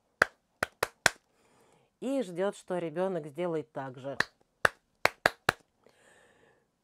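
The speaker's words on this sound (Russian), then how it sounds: "Педагог задает какой-нибудь ритм хлопками в ладоши" A steady rhythm is clapped out with bare hands, a quick run of sharp, close claps, then someone speaking Russian, then another burst of crisp claps in a similar pattern, ending in a faint tone.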